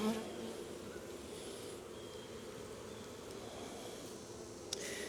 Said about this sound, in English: There's some bees coming out.